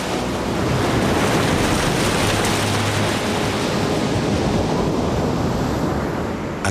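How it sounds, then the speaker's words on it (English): Stiff, constant wind and wild ocean waves crash on the stormy Costa de la Luz near the Strait of Gibraltar, a loud, unbroken roar of surf and wind noise with no voices. "A constant stiff wind and wild waves attract kite surfers from around the world to this historic coast."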